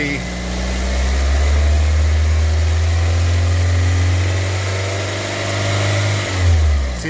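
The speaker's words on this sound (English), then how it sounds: "I can just go ahead and give it some gas right here from the engine compartment" A car engine revved by hand from the engine compartment during a fuel injector test, a steady loud mid-pitched drone that swells and falls with the throttle, close by.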